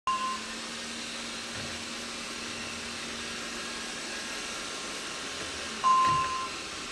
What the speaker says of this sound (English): Here's the 4 different vacuum levels. You can hear the difference.